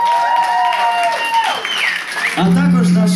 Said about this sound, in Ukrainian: оплески для нього